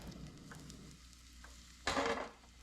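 A thinly cut pork steak goes into avocado oil in a pan over lowered heat, giving one sudden loud sizzling burst that fades after a moment, following a quiet stretch of faint background hum.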